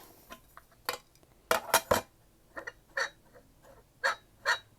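Dry, scraping clicks and clattering knocks from the dry, ungreased turntable of a Sunbeam Mixmaster Model 3A mixer being turned by hand, in uneven bursts, close up with no voices.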